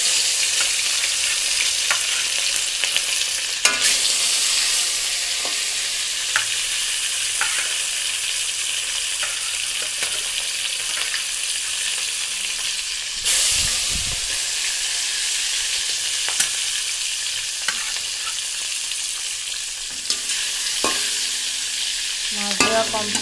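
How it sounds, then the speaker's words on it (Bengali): Fish frying in hot oil in a wok, a steady loud sizzle and hiss with occasional clinks of a utensil, no voices. "কড়াতে তেল দিয়ে দিচ্ছি মাছ ভাজার জন্য"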